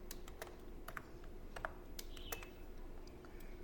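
Quick, irregular keystrokes on a computer keyboard as a captcha code is typed into an online form, crisp clicks near and fairly soft, with short pauses between bursts and no voices.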